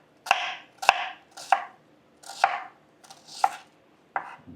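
A knife chops onions on a cutting board in a home kitchen, seven crisp, evenly spaced strikes at close range with no talking.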